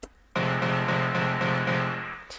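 A single sustained rave piano stab chord, with a transient shaper boosting the attack, struck sharp and punchy, ringing out loud and alone for about two seconds before a brief soft tail.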